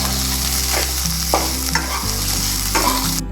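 Soya bhurji with coriander is stirred in a pan, a close, steady sizzle broken by several distinct scraping strokes of a spoon against the pan, with no talking.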